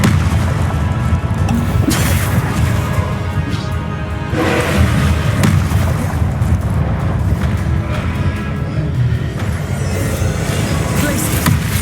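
Spell impacts and explosions from Hogwarts Legacy thump and boom repeatedly over a dense, roaring layer of battle noise, loud and sustained with several sharper bursts spaced through the stretch.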